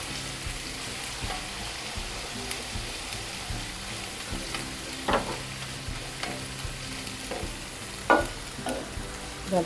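Okra masala with garlic paste, curry leaves and chili powder frying in a pan, a steady low sizzle broken by scraping stirs and a few louder clanks near the end, no voices.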